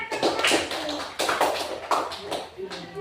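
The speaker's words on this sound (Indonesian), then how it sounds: "Semuanya tepuk tangan." A classroom of schoolchildren claps hands together, a few short uneven bursts of fairly close clapping with voices and shuffling mixed in.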